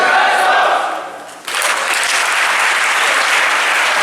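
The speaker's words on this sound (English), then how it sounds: "Round of applause for these brothers right here." An audience applauds at a tie ceremony for the tenth anniversary of Eagle Academy for Young Men in Newark, New Jersey. The clapping swells sharply after a brief dip and then holds as a dense, sustained round.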